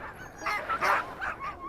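Sled dogs bark and yip in a short, muffled cluster of four or five calls, moderately close and fairly faint, with no talk over them.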